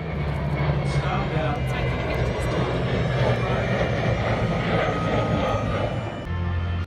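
A heritage flight of an F-35, a P-51 Mustang and a Spitfire passes over the Flying Legends air show at Duxford in 2018, a loud, steady engine roar with a low droning tone that fills the whole stretch, with voices mixed in.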